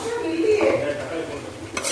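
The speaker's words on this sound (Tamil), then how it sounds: "இப்போ இந்த பவுட்ரு பண்ணி வச்சுருக்கிற சர்க்கரையை இதில் சேர்க்குறோம்." Powdered sugar being stirred into colostrum milk in a pan, a close, steady scraping swirl with a light sizzle beneath and a brief clink of a spoon against the pan near the end.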